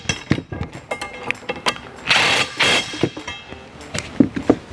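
A ratchet wrench tightens nuts and bolts on John Deere R-Series sprayer boom sections, with close, loud clicking bursts and a couple of longer rasping runs of ratcheting in between, no talk.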